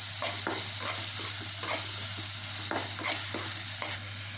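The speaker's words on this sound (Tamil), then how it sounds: "கருவேப்பிலை போட்டு நல்லா எல்லாத்தையும் நல்லா முத இதை வதக்கிக்குவோம்." Onions, ginger and curry leaves sautéing in a pan with steady sizzling and repeated scraping stir strokes, close and continuous, with no talking.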